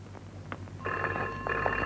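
A telephone rings in a 1973 film scene, its bell trilling in bursts over a steady low background hum, close and clear with no one talking.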